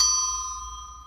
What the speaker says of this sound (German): Die Klingel ist hier bei sowas Smart und natürlich auch digital.